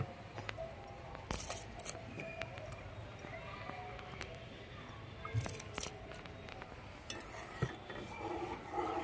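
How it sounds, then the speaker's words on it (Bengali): Milk with Gobindobhog rice boils for payesh while being slowly stirred, giving soft scrapes and scattered clicks over a steady, quiet bubbling hiss. "আস্তে আস্তে এইভাবে নাড়তে হবে।"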